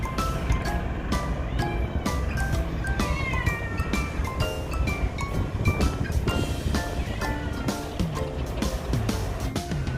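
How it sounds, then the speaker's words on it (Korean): A group of stray cats meows steadily and overlappingly outdoors while waiting to be fed, many close and loud voices mixed with a few caterwauls, constant throughout with no talking. "자 지금 먹이를 기다리는 길냥이들"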